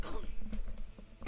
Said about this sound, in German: Aber erstmal muss ich husten.